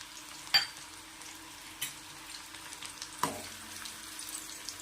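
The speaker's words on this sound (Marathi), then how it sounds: "बारीक कट केलेला एक कांदा आहे कांदा पण टाकायचा आणि छान याला परतून घ्यायचा" Finely chopped onion sautéing in a pan with mustard seeds for a village-style pea curry, a soft, steady sizzle punctuated by three sharp taps and scrapes of a spoon stirring against the pan.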